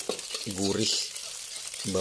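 Beaten eggs, two of them, sizzle and fry in a hot pan as the start of rendang fried rice, a steady close crackle with scraping stirs and a couple of harmonic squeaks from the pan or utensil, no talk.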